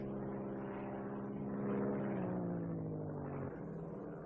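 Propeller aircraft engine droning steadily as the throttle is pulled out, a rich harmonic hum that swells slightly, its pitch sliding downward before dropping abruptly near the end.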